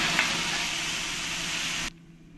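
Milk is poured into a pan of coconut and khoya filling, raising a loud, close, steady sizzle that stops abruptly near the end.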